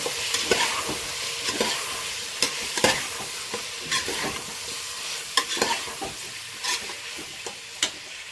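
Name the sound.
stirring turmeric into chicken biryani masala in a pan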